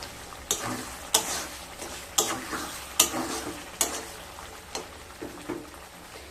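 Potatoes being stir-fried with masala in a pan for potol chingri, with a spoon scraping and turning them in a steady rhythm of sharp strokes roughly once a second over a soft background sizzle.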